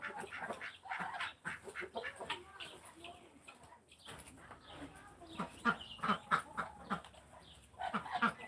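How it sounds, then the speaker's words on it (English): Chickens on a farm cluck in a quiet, irregular chorus of short calls, somewhat distant, with faint voices around them. "chicken."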